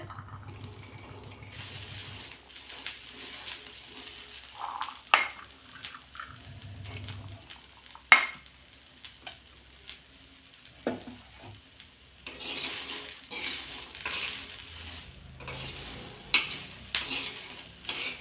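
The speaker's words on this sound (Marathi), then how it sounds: "हिरवे मटार जे आपण धुवून घेतलेले आहेत ते टाकून घेऊ आणि मटारसुद्धा मिरचीसोबत भाजून घ्यायचे" Fresh green peas and green chillies dry-roast in a pan with no oil, a faint, soft crackle broken by scattered scraping stirs and clinks of a utensil, quiet and close.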